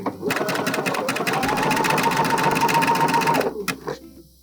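Sewing machine zigzag stitching the picot-edged elastic of a bralette, a loud, close, steady run of rapid stitching that slows and stops near the end, with someone talking over it.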